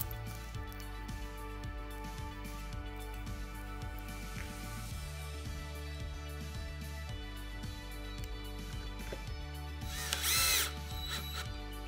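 Power drill driving fasteners into the aluminum bracket of a drop-in dock panel, heard as a steady run of closely repeated ratcheting clicks over a mechanical whir, ending in a short louder burst of tool noise.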